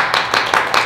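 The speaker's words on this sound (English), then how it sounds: "One more round of applause." Sharp hand claps in a loose rhythm, several bursts of clapping from a small group, fairly close and steady, with no voices.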